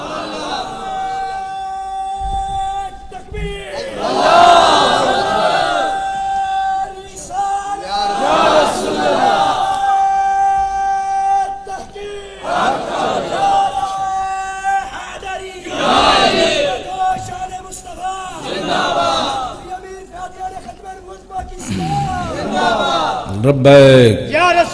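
A large crowd at a religious gathering chants a slogan in loud, rhythmic waves. A lead voice calls out and many voices answer together, and the call and response repeats several times with a sustained tone underneath.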